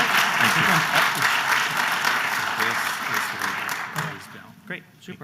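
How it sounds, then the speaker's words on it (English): Audience applause fills a hall at an Ohio University updates gathering, dense and sustained at first, then thinning and dying away into scattered claps near the end, with voices mixed in. "Give David another round of applause."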